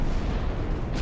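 Secondary guns on warships fire in a naval battle in Ultimate Admiral Dreadnoughts, a dense, rumbling barrage of booms. The low-end roar holds steady for a second, with a sharper burst near the end.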